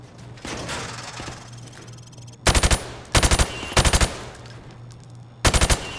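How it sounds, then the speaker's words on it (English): Four loud, short bursts of automatic gunfire fired at targets behind plywood in Call of Duty: Modern Warfare Remastered, each a rapid string of shots separated by brief pauses over a low background hum. "I want you to shoot the targets through the wood"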